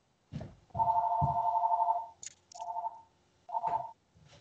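A phone rings nearby in several short electronic trilling bursts, fairly quiet, with small kitchen clicks and chewing sounds between the rings.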